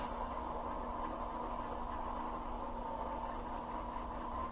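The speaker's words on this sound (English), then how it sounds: "Now you can hear the sound. The locomotive is started up." An Athearn AC4400 model locomotive in Union Pacific livery runs its sound system after start-up, giving a steady diesel hum with a constant tonal drone at moderate volume throughout.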